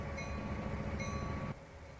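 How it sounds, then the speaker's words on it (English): Low rumbling of slow-moving rail cars backing up on a second track in a rail yard in the Trainz 2019 train simulator game, with metallic squeal tones recurring twice, then the rumble eases slightly; no talking. "and Jane is just backing these cars up on the second track"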